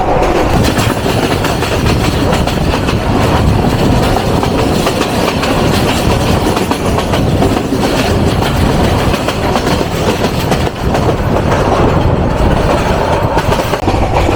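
The 782 Kishoreganj Express passenger train, bound from Kishoreganj to Dhaka, runs at speed with a loud, continuous roar of wheels on rails, rhythmic clickety-clack and rattling carriages heard from on board.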